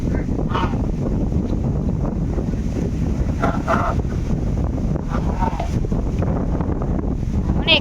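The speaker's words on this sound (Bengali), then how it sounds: "বাতাস অনেক" A strong wind blows outdoors during a stormy, rainy day by a river, a heavy steady rumble buffeting the microphone throughout, with brief faint bird calls.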